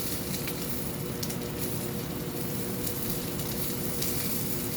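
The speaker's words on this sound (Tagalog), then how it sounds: "ako muna ay nagpiprito." Food fries in a pan with a steady, dense sizzle and small crackling pops, a continuous hiss close by with no talk over it.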